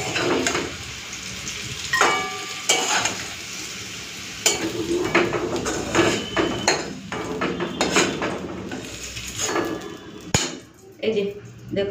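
Bitter gourd and potato fry in a pan, a soft sizzle under repeated scraping and clinks of a spatula against the metal, close and intermittent, with a voice talking over it.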